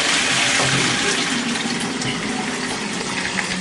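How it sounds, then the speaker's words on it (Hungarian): A Chinese-made water pump that is starting to fail runs steadily at close range, giving a loud, continuous rushing and gushing of water with an even hum beneath it and no talk. "csak nagyon ritkán kell beindítani a szivattyút, amit most direkt azért beindítok, hogy hallani lehessen, hogy micsoda hangja van"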